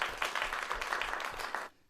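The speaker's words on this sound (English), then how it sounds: "Give her some round of applause there." Studio audience at an acting studio script showcase in Phoenix claps briefly for a producer, a short, fairly soft burst of applause that stops abruptly.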